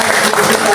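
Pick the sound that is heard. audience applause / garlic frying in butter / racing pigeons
audience applause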